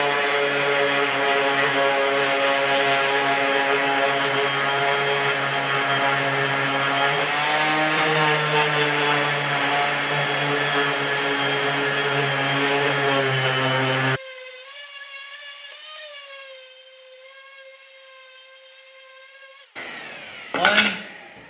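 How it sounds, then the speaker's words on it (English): A palm sander sanding a wooden chair face runs steadily with a loud, harmonic motor whine, then drops to a lower hum and winds down before a brief final burst. "we'll palm sand the face."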